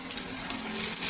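Potatoes fry in a pan with chilli, cumin and turmeric powder, giving a brief, soft and steady sizzle with no voices.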